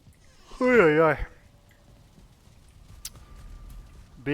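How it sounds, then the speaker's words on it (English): A person lets out a loud, drawn-out voiced yawn up close, a wavering groan lasting about half a second, then a low background hum and a single faint click. "Big yawn right there."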